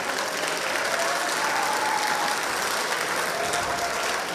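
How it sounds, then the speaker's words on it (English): Steady crowd applause fills a VEX Robotics competition hall, a dense even wash of clapping heard alone at moderate level. "how about a big round of applause for these guys for hanging in there and fixing their robot on the fly"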